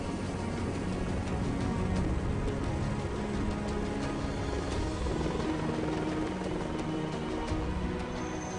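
Steady, dense mechanical rumble of a helicopter, loud and continuous throughout with no pauses, filling the whole stretch without any voices.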